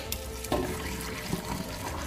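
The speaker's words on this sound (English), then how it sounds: "Now I'm gonna pour the boil kettle water into the drain" Boiled kettle water is poured into a kitchen sink drain to clear grease, making a continuous close splashing and gurgling flow with a few louder sloshes.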